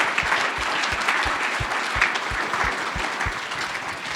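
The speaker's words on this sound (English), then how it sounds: "let's give Ed Griffin one more round of applause" Audience applause fills a hall at a charity gala award ceremony, a steady dense wash of clapping from a large crowd that holds at full strength from start to finish.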